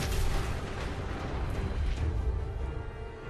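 A deep, rumbling explosion in the video game Fallout 4, with sustained low roar and crackling debris, loud and dense throughout, no voices.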